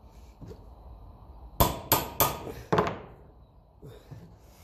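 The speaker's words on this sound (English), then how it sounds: "two taps to the hammer should get it back in." Four bright hammer taps knocking a Massey Ferguson tractor part back into place, three in quick succession then one more, ringing briefly, up close with soft shuffling before and after.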